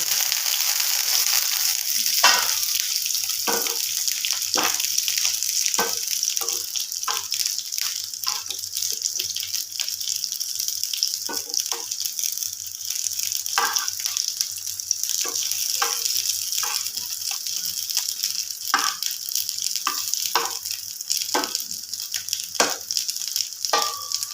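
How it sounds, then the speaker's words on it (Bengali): Shrimp fritters sizzle steadily in hot oil, with a constant hiss broken by frequent sharp crackles and pops. "তো আমি ঢাকা দিয়ে দিয়ে ভাজবো তাহলে একদম ভেতরটাও আর ভাজা"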